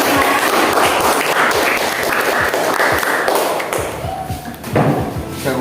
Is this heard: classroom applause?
yes